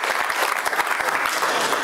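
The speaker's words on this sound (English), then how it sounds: "Give Mark a big round of applause." A live magic show crowd claps for an onstage volunteer, a short loud round of applause with quick overlapping hand claps filling the room.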